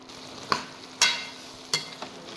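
Vegetables sauté with sambar powder in a pan: a soft, low sizzle hisses underneath while several sharp stirring scrapes and taps land about half a second apart, nearby and without voices.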